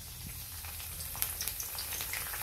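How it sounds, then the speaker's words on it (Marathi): Coriander added to hot oil in a kadhai on a gas stove for tempering, making a quiet, even sizzle with faint scattered crackles and a few light clicks, no voices. "कढई ठेवली गॅसवर. त्यात तेल टाकून घेतले. मी फोडणीसाठी थोडीशी कोथिंबीर घालते."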